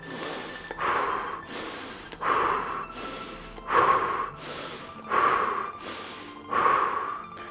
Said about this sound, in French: respiration qui est de l'hyperventilation, où on va inspirer par le nez et on va expirer par la bouche